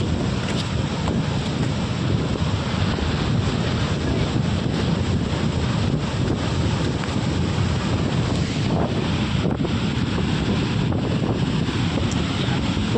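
Loud, gusty wind roars into the microphone over a continuous wash of sea waves at Chowpatty beach, sustained throughout with no speech.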